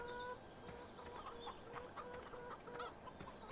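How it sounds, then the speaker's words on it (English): Chickens in the farming video game Farming Simulator 17 cluck steadily over a constant farmyard ambience, with repeated short clucks and a few higher calls, no talking. "There's the chickens already sitting pretty for us."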